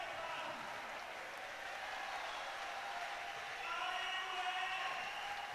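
Spectators at the IFSC Climbing World Cup women's bouldering qualifications in Munich applaud steadily, a dense wash of clapping that swells louder toward the end as the climber pushes up the wall.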